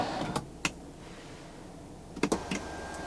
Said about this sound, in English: You can open up the sunroof as a vent as well.